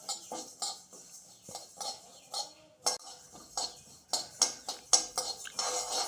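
Cumin seeds and black peppercorns are dry-roasted in a pan, heard as repeated scraping and clinking of a spoon against metal in uneven bursts, with light rattling of the spices between strokes.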